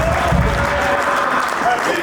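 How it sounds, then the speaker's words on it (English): A crowd at a 70s and 80s themed annual ball breaks into loud, dense, sustained applause. The steady clapping fills the room, with voices mixed in underneath. "Please, let's give a big applause."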